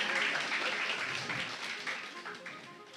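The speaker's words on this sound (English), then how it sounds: "Round of applause for her." Audience applause at a female MSME award ceremony in 2023: a continuous crowd of clapping hands at moderate distance, gradually fading, with some voices mixed in.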